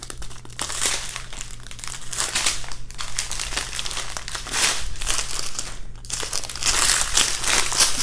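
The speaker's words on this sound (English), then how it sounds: "Sorry about the crinkle sounds" Plastic packaging of a Diamond Art Club Warm Witch diamond art kit crinkling loudly and close while being unboxed, in continuous rustling bursts with short pauses.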